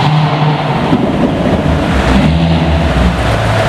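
A Le Mans-winning Dodge Viper GTS race car, converted for street use, roars loud and close throughout, its engine note holding heavy and steady with slight shifts in pitch as it downshifts.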